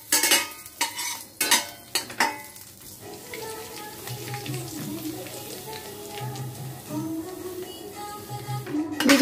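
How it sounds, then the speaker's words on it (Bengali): Semolina stirred and frying in a pan for a home Janmashtami puja offering, with scraping spoon strokes and a steady low sizzle throughout, a few louder clinks of utensil against the pan at the start and near the end. "এখানে করছি সুজি, ফ্রাই করছি আগে।"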